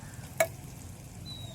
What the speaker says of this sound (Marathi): आता परतून घेऊ सर्व जिन्नस